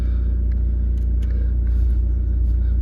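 A Volkswagen Scirocco 2.0 TDI R-Line diesel with a manual gearbox idles steadily close by, a continuous low throbbing rumble with an even rhythmic chatter and no revving.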